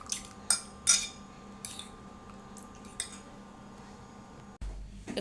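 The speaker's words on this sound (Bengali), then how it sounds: "তো এখন আমি ডিম আমলেট করব। এখানে 3টে ডিম নিয়েছি, ধনিয়া পাতা, কাঁচামরিচ।" A fork clinking against a bowl while three eggs are beaten with coriander leaves and green chilli for an omelette, a few sharp metallic taps early on, then quieter scraping against a low background hum.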